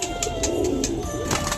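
Pigeons gathered to drink water coo softly and repeatedly nearby, their low throaty calls overlapping with a few brief higher chirps and flutters.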